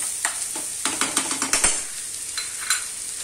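Finely chopped onion frying in a pan for pasta, stirred with a spatula in a quick run of rhythmic scraping strokes over a loud close sizzle, then a couple of slower strokes, with no voices.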